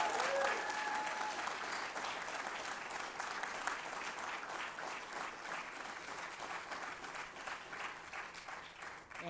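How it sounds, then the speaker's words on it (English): Audience applause at the NASDAQ opening bell ceremony celebrating student veterans on Veterans Day, a continuous even crowd of clapping that stays steady and fairly soft for the full length. "Let's have a round of applause for these great companies."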